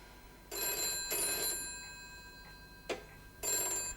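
An office telephone rings in distinct bursts, two close together and then a third after a pause, with a brief click between them, fairly near and clear with no talk over it.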